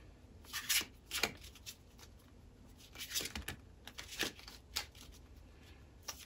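A deck of tarot cards being shuffled by hand, repeated soft riffling and rubbing bursts in an uneven rhythm, close and fairly quiet with no talking.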